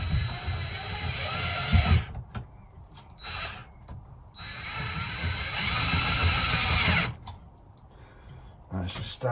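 A power drill bites into the work while a bench clamp is being installed, with a loud, steady grinding whir that rises and falls in long, close bursts.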